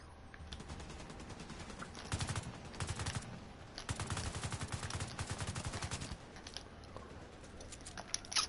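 Rapid automatic gunfire from the online shooter The Division 2 comes in several fast bursts of tightly spaced shots, fairly faint overall, with short pauses between the volleys.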